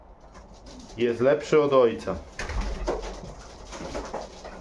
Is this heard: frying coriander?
no